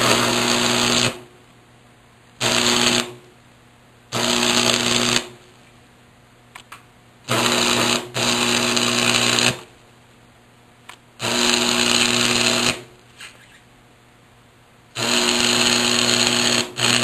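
An arc welder burns a fresh stick electrode in repeated loud, buzzing crackles, a series of short close-up bursts broken by brief quiet gaps.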